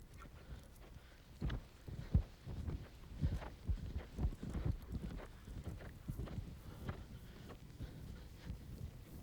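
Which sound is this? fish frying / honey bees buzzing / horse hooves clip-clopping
horse hooves clip-clopping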